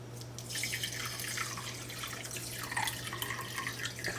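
Water pours steadily over rice in a container, a soft continuous trickle and splash with a faint low hum underneath, close and fairly quiet.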